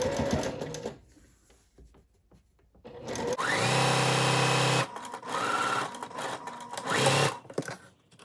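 A sewing machine stitches seams on a rainbow seersucker skirt, running in loud, steady bursts of mechanical whirring with brief pauses and clicks between, close up.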